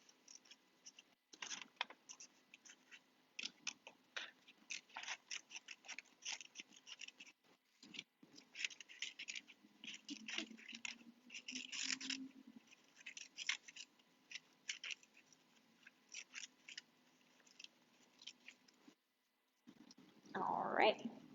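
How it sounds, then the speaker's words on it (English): Scissors snip steadily around a small circle drawn on paper, with quick, close crisp cuts in an uneven rhythm and a brief pause near the end, as a craft lantern takes shape. "get your scissors in to start cutting around the smaller circle"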